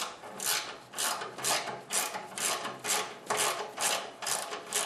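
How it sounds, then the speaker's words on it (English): A 3/8 ratchet and socket reinstalling bolts on an older Craftsman snowblower, heard as about nine rhythmic raspy clicking strokes in steady succession, close and moderately quiet without speech. "And you'll need a 3/8 ratchet and a socket."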